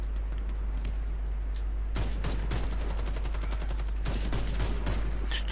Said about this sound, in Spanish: por aquí hay disparos